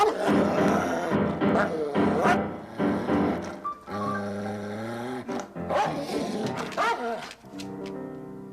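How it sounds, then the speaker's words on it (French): A trained dog growls and barks repeatedly, with snarling, roar-like bursts and whining tones in an uneven rhythm, close and fairly loud, punctuated by short gaps. "Vous avez acheté un chien dressé?"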